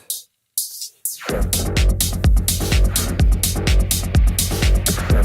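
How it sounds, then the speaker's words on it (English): Dance track on a Traktor Kontrol S4 DJ controller pushed through a high-pass filter, steady beat at moderate loudness after a brief dropout at the start, with no talk. "If I go all the way to the right, all you hear is highs."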